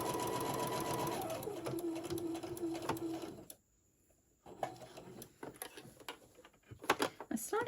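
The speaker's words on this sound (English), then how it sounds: "And I'm going to sew straight over the top." A sewing machine stitches straight over ribbons on a fabric gingerbread figure, running in a steady close whir for a few seconds before stopping; light handling clicks and fabric rustle follow.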